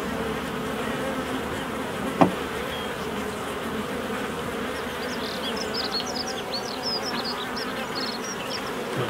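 Honeybees buzz around an open hive during a beekeeping inspection in the UK, a steady, close, droning hum that fills the whole stretch, with one brief click partway through and no talk.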